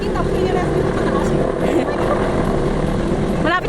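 A rescue helicopter hovers close by over the Ap Lie Chau trail in Hong Kong, its steady loud rotor and engine roar filling the scene continuously, with people talking over it.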